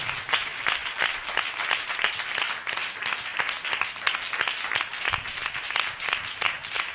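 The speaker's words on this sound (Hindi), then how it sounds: "जोरदार तालियों से हम प्रभु की महिमा करें" A large church audience claps continuously, a dense, steady roar of applause that holds for the whole stretch without pause.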